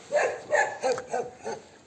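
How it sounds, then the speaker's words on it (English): A dog barks five times in a steady, evenly spaced series, each bark close and fairly loud, heard during a walk outdoors with no talking. "Look, there's a dog, I'm gonna try to pet him."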